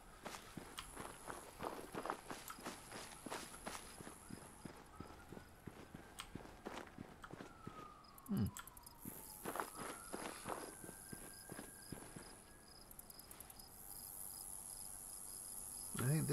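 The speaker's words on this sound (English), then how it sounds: "My steps sound like multiple footsteps as I'm walking" Footsteps of a player character in Fallout 76, a steady run of crunchy steps that doubles up as if several feet fall at once, with insects chirping over an outdoor ambience and a couple of louder thumps partway through.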